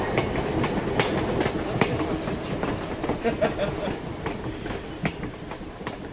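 Train cars roll along with a steady clickety-clack. The rumble is continuous and dense, with regular wheel knocks rising and falling and no pause throughout.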